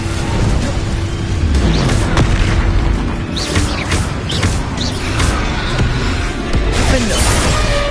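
Fiery spell blasts in Hogwarts Legacy combat go off as repeated booming bursts over a loud, continuous battle din, each blast a short thump spaced a second or so apart.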